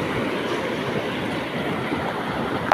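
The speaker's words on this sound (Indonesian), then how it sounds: "Ombak besar guys." Continuous heavy rumbling wash of big ocean waves breaking at a beach, steady and loud throughout, churning nearby with no voices.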